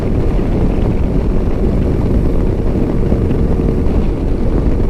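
A 2025 Lifan KPT 400 motorcycle cruising at speed, with a loud, steady roar of wind and engine rumble that stays constant throughout, and no talking.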